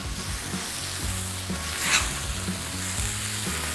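Beef smashburger patties sizzle steadily on a hot griddle after being flipped, a dense continuous fry with faint rhythmic scraping or tapping underneath, close and fairly loud.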